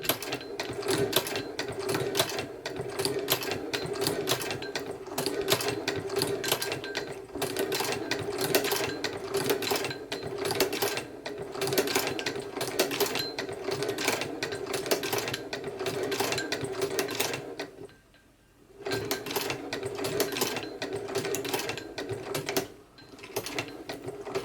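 A Singer 29K171 boot-patching sewing machine with a thread-tension problem runs close by, its needle mechanism clattering in a fast, even rhythm. It stops briefly twice near the end, and there is no speech.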